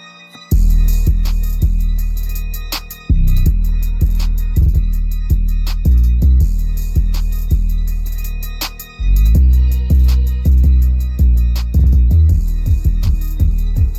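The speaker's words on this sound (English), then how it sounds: "And this is how the beat sounds." A loud trap beat with booming deep bass hits, crisp rapid hi-hats and sharp snares, looping in a steady rhythm with no vocals.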